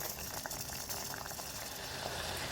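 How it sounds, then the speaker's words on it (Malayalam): A pot of beetroot simmers with a steady bubbling boil, a soft continuous hiss and burble with no voices. "ഇത് ഒരു അഞ്ചാറ് മിനിറ്റ് തിളച്ചാൽ ഇത് വെന്ത് കിട്ടും"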